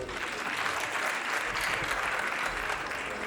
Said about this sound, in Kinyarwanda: Abahanzi bo mu Rwanda mubamera amashyi.